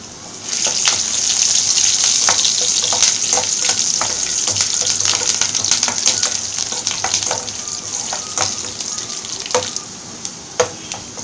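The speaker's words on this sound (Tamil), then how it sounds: "கடுகு உளுந்து பொரிஞ்சதும் வெள்ளைப்பூடு போட்டுருங்க." Garlic frying in oil with popped mustard seeds and urad dal while cooking Tamil fish kuzhambu, a steady close sizzle with scattered crackles and pops running throughout, no talking.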